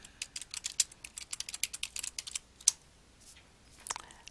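Quick bursts of keystrokes on a computer keyboard as a search phrase is typed, a run of close, crisp clicks with a short pause before a final few taps.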